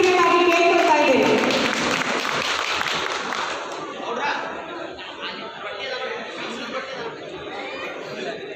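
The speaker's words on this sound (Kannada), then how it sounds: "ಹೆಮ್ಮೆಯ ಅಭಿಮಾನದ ಚಪ್ಪಾಳೆಯನ್ನು ನೀಡಬೇಕಾಗಿ ಕೇಳ್ಕೊಳ್ತಾ ಇದ್ದೇನೆ" Audience at a Santosh Lad Foundation aid event in Hubballi breaks into loud, dense applause mixed with crowd chatter and laughter, strongest at the start and tapering to a steadier murmur of clapping and voices.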